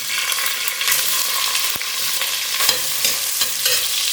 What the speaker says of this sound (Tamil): இப்போ மீடியம் ஃப்ளேமில் வெங்காயம் வந்து நல்லா வதங்கட்டும்